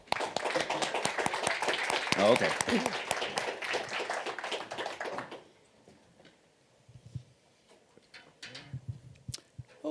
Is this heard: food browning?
no